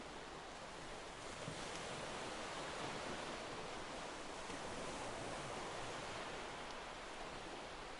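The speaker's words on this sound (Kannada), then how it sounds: "ಜೊತೆಗೆ ಅಲೆಗಳ ಸದ್ದು ನಿಮ್ಮ ಕಿವಿಯ ಮೇಲೆ ಬಿದ್ದಾಗ" Ocean waves washing onto a sandy beach make a steady, unbroken broadband roar of surf that holds an even level throughout, with no voices.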